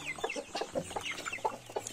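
Chickens cluck in quick, irregular bursts at close range on a small farm where chicks are raised, a brief run of soft calls with no talk.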